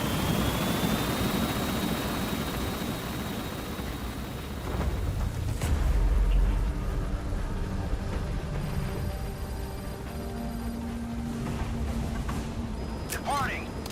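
A helicopter in the video game Metal Gear Solid V: The Phantom Pain drones with a steady rotor and engine rumble throughout, a bump midway, with faint game sounds and beeps layered on top.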